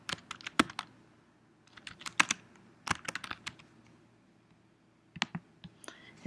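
Typing on a computer keyboard comes in bursts of close, crisp key clicks with short pauses between, as a Google Doc is renamed; no talking.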